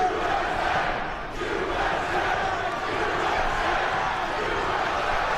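A crowd of fans cheers and roars at an LFA mixed martial arts event in Nashville, Tennessee, a sustained loud wash of noise that holds steady throughout with no clear pauses.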